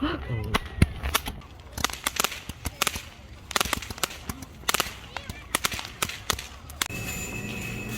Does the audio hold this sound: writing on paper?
no